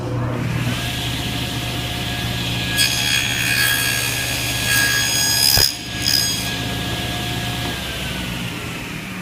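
Machine saw cutting tenons on wooden front rails for a nightstand, a steady loud whir and hum with a brief rasping cut partway through and a sharp knock near the middle, with no speech.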